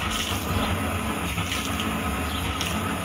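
Water poured onto a small fire during a home fire-safety demonstration, a steady, close gushing splash that continues without a break and with no talk over it.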